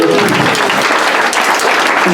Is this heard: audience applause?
yes